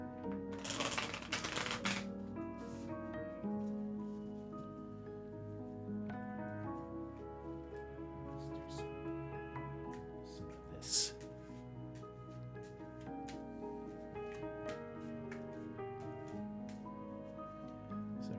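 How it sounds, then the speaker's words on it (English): Cards from a 78-card Lucky Fortune Tarot deck are shuffled, making rapid papery clicking in a burst near the start and a short one later, over soft background music. "We're shuffling it up, getting rid of any possibility of an old reading being stuck at the top."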